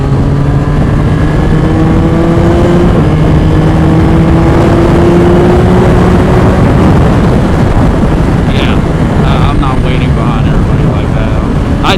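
A Yamaha R9 motorcycle with an aftermarket exhaust drones loud and close, its engine note holding and slowly climbing in pitch, with a few sharp clicks near the end.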